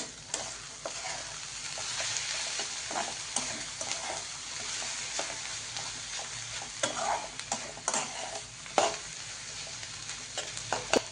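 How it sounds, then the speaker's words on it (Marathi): Ghol (purslane) vegetable cooking in a pan over a low gas flame, with a steady soft sizzle broken by frequent scraping stirs and light clicks of a spoon against the pan. "आता बारीक गॅसवर पाच मिनटं भाजी शिजू द्यायची"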